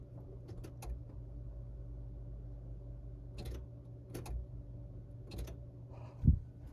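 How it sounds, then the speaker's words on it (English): The fuel pump at the back of a classic Saab switches on, giving a faint, steady low electric hum under scattered clicks and camera handling knocks, with no speech. "You can hear the fuel pump turning on."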